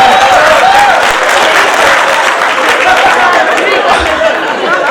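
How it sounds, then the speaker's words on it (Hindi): Loud, sustained applause from the audience at a Hindi comedy poetry gathering (hasya kavi sammelan), dense clapping mixed with crowd chatter and light laughter, filling the whole stretch without a break. "मजा आया तो खुल के तालियां बजाओ।"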